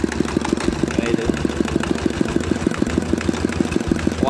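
A Dongfeng diesel engine on a rice-field water pump revs lightly on a little throttle, giving a steady, close, loud chugging beat with a fast, even rhythm throughout.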